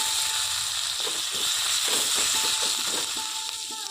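Tomato and ginger hit a pan of turmeric and panch phoron frying in oil for a spinach and potato dish, giving a steady, loud hissing sizzle with faint scraping throughout.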